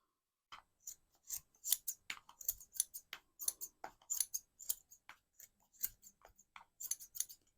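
Scissors snip repeatedly through the leftover ends of a homemade Christmas hair bobble, a long run of crisp, close cuts in an uneven rhythm with short pauses and no voices.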